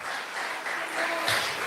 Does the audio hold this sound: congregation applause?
yes